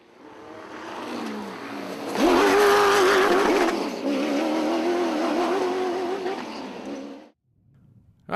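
A 498-horsepower Corvette race car engine roars up close while tires squeal and skid, the pitch wavering for several seconds before cutting off abruptly.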